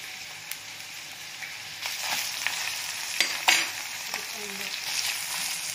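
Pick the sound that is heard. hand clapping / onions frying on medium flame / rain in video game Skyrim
onions frying on medium flame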